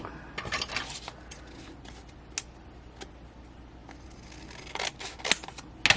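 Scissors snip paper for a junk journal in a series of short, close, crisp cuts spaced irregularly over a quiet background, with a cluster of sharper snips near the end.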